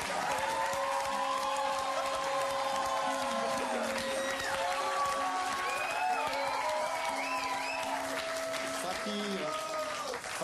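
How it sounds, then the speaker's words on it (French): Studio audience on a French comedy quiz show bursting into sustained applause and cheering, dense clapping throughout with music playing under it. "Et je vous demande de l'accueillir sous vos applaudissements."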